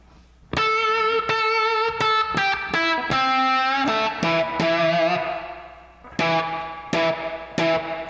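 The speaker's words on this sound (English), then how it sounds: "you can hear that kind of that warble of this spring reverb sound" An electric guitar plays a lick of plucked notes and chords, each drenched in a wobbly, splashy spring reverb that lingers between attacks.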